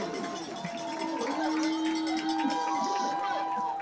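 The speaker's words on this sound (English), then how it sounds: "noisy crowd that we're used to hearing" A noisy crowd roars and cheers at a women's football game between the D.C. Divas and the Pittsburgh Passion right after a touchdown, a steady dense din of shouts and whistles with a few voices rising above it.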